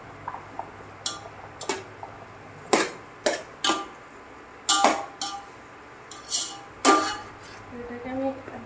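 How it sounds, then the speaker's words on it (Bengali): A spatula clacks against a pan as carrots are stir-fried for vegetable fried rice, with sharp, separate knocks spaced about a second apart over a low background hum. "এটাকে আমি একটু নেড়ে নেড়ে ভেজে নিচ্ছি"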